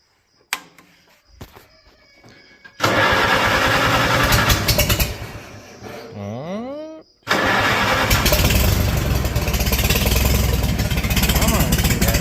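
A Farmall H tractor engine cranks with a few clunks and a rising starter whine, then catches into a loud, rough roar that dips briefly before settling into a steady, heavy idle. The engine sounds close and dominates throughout.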